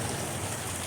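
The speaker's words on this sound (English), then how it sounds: "it's only been raining like about an hour, maybe an hour and a half, raining kind of hard" Heavy rain from Tropical Storm Hillary pours steadily near San Diego, a dense, continuous hiss of drops hitting surfaces, loud and uniform with no break.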